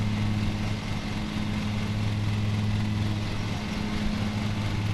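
A riding lawn mower engine in Lawn Mowing Simulator runs at a steady, even drone, loud and constant throughout with no voices.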